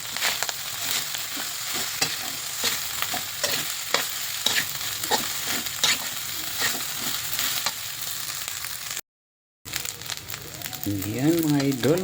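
Food frying in a pan with a little oyster sauce is stirred, giving a steady sizzle with repeated scraping strokes, a short break, and a voice speaking briefly near the end.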